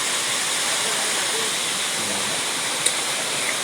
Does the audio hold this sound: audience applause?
no